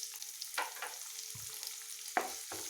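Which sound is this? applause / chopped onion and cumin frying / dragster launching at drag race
chopped onion and cumin frying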